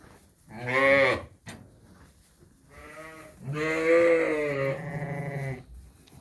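Lambs and sheep bleat in a lambing barn: several loud, close, wavering cries, one short and one long drawn-out call, with quieter bleats between them.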